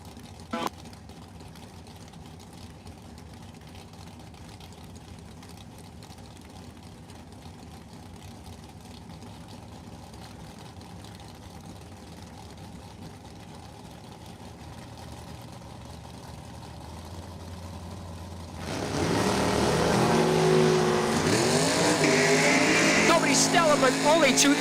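A Pontiac Firebird and a 1967 Mustang at a drag strip idle quietly under a low rumble, then a sudden loud roar of revving engines launches off the line near the end, with an announcer talking earlier.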